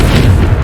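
A fire spell blast in Hogwarts Legacy, one short, loud, deep boom filling the whole moment with low rumble.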